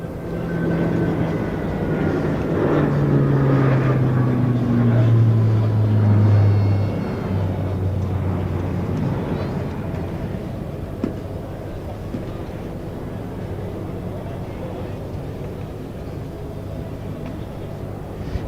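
A Spartan military transport aircraft flies an aerobatic display at an air show, its loud turboprop drone sweeping by with a falling pitch, then fading into a steady distant rumble.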